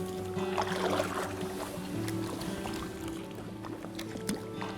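Family kayaks paddling on the Rideau Canal in rain, soft paddle strokes and water splashes close by with drips and light hull knocks, fairly quiet throughout.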